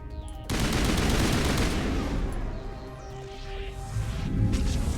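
Gunfire in Mass Effect breaks out after a short quiet start and turns into a dense, sustained barrage of shots and impacts with a faint whoosh, loud and continuous to the end.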